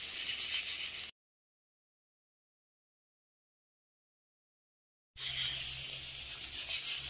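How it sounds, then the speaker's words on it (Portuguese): Vegetable stalks and beet leaves fry in a pan with a loud, steady, hissing sizzle up close, cut by about four seconds of total silence before the sizzling resumes with a low hum beneath. "Então eu vou fritandinho."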